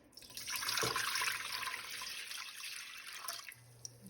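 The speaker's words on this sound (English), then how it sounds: "So we're gonna pour that into our pan right here." A sapphire blue wild violet mixture, about three and a half cups, is poured into a pan for jelly, making a steady splashing, trickling liquid sound that runs for a few seconds and then tapers off, fairly quiet.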